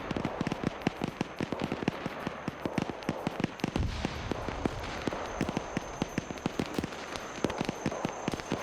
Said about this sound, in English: Now we're starting to hear a lot of gunfire in a certain area.